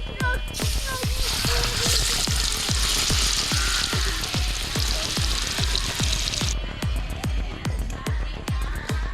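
Masala-coated fish lowered into hot oil bursts into a loud, steady sizzle and spatter, with a rapid run of sharp ticking pops throughout, near and alone without talk.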